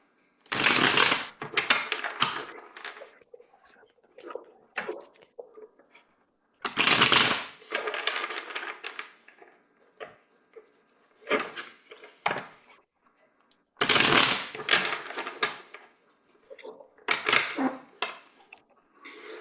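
Papers are shuffled and rustled at a desk in repeated short, crisp bursts with quiet gaps between them. No one speaks.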